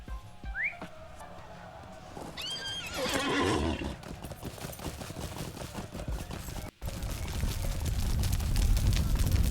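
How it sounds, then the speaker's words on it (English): A horse in a Lord of the Rings video game, where the steeds include the Steed of the Hunter and the Steed of Rivendell, whinnies loudly, then hooves clip-clop amid game sounds, with a brief whistle early on. "I'll get on my faithful steed."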